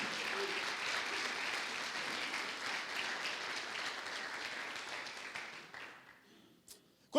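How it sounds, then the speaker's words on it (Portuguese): A church congregation applauds in a broad, sustained round of clapping that fades out near the end. "Aplauda o Senhor"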